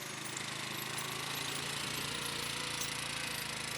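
A 2003 Polaris Ranger 6x6 engine running steadily at idle, a faint continuous mechanical drone with rattly knocking texture and no voices.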